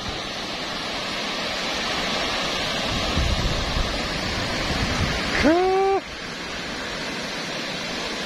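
Ocean waves wash steadily onto Nagtabon Beach on Palawan in the Philippines, facing the South China Sea, a broad close surf hiss with a short voice rising over it near the end.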